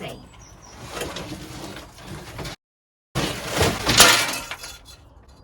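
A glass pane breaks as a workbench is shifted in an allotment greenhouse, a sharp crash with scattered tinkling shards, close and moderately loud amid rustling and handling noise, with a brief silent gap midway.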